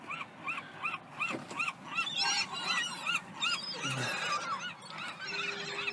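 Seagulls call repeatedly while being tossed apple pieces outdoors, a chorus of rhythmic, nasal, overlapping cries close by, with a few soft thumps and no speech.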